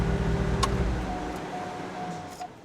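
A GMC Sierra truck engine idles steadily, a low, even hum close by that slowly fades a little, with faint high tones and a couple of brief clicks over it.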